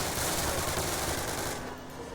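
Thompson submachine gun firing in the Call of Duty video game, a loud, sustained burst of rapid automatic fire that cuts off and leaves a short fading tail.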